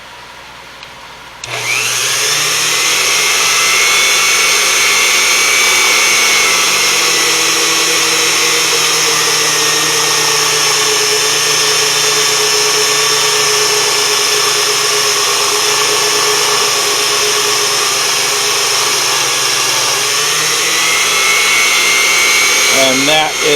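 A Unimat SL1000 mini lathe at 850 RPM cuts 7075 aluminum, giving a loud, steady whine with a strong hum that starts after a short quiet moment and holds for about twenty seconds.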